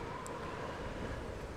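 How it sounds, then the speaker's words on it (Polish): Strong wind blowing in the video game Tomb Raider, a steady, low, rushing wash of noise that holds evenly throughout at a faint level. "Wiatr dość silny"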